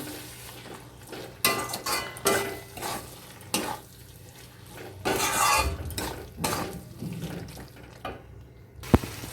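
A spoon stirs and scrapes a spice paste in a metal pan while frying fish curry is prepared, with irregular clinks and scrapes over a steady low sizzle, close and moderately loud, and no talking.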